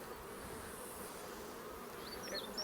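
Honey bees buzz steadily around a honey super during a late-season honey harvest, a faint continuous hum with a few individual bees droning past near the end.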